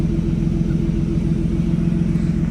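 A BMW E36 engine idles steadily up close, a continuous low rumble with no speech over it.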